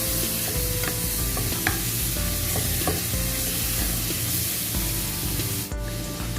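Chicken breast frying in a pan with turmeric and cinnamon powder, loud steady sizzling with scattered stirring scrapes and small pops throughout, close up and without talk.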